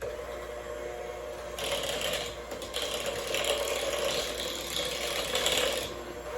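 A handheld electric mixer beats carrot Bundt cake batter with granulated sugar at high speed, a rattling mechanical whir that jumps louder after the first second and a half and stays steady and close, with no talking.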